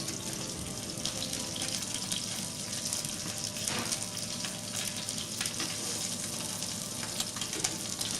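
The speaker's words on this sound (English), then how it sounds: "See, I just press that fish down. I want to make contact with the pan." A skate ray wing on the bone sears in a hot pan with a steady, close sizzle and crackle, with light scraping and a few louder spits as the fish is pressed down.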